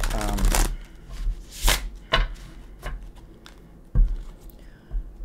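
Tarot cards riffle and shuffle in a few loud bursts with softer shuffling between, close by, with a voice faintly present in the background.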